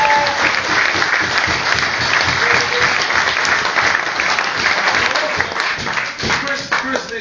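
Members of a rugby club applaud their captain during a speech, a steady round of clapping from a close crowd with some voices mixed in throughout.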